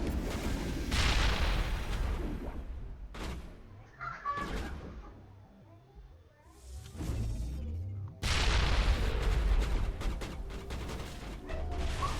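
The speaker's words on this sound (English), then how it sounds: "Tossing grenade." A grenade goes off in the Mass Effect video game, a loud booming blast with rumbling, crackling debris that swells, dips into a quieter lull, then bursts back in with heavy roaring noise.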